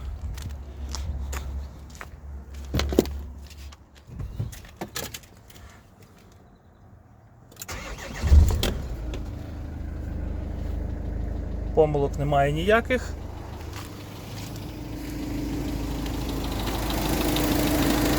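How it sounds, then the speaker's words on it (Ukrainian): A Renault Master 3 L3H van engine cranks and catches, then settles into a steady low idle, with someone talking over it and footsteps nearby. "Зараз я вам заведу двигун."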